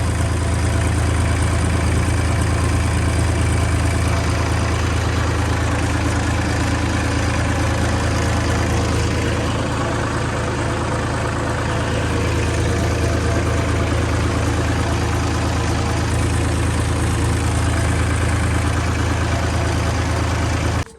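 A parked tractor engine idles steadily on a Punjabi potato farm after heavy rain, a loud continuous low rumble running unbroken and close for the whole stretch with no voices.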